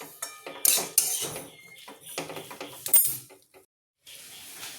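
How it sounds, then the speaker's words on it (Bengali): A metal lid set down over a cooking pan in a home kitchen, with several sharp clanks and scrapes of metal on metal, close and fairly loud, followed by a brief quiet and faint room noise. "আমি এবার চাপা ঢাকা দিয়ে দিলাম"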